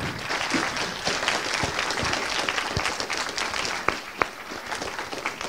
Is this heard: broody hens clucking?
no